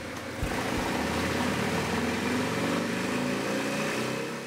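Harley-Davidson motorcycle on a dyno, its engine running with a steady, fairly loud rumble that stays even throughout with no clear rev peaks.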